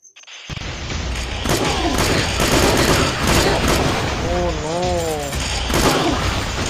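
Gunfire in a zombie video game, dense rapid bursts of shots and booms running continuously at close range, with tonal game sounds layered over the barrage.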